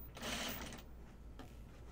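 A sewing machine stitches the seam of a bucket hat in a quick whirring run of about half a second, then goes quiet before a faint short restart.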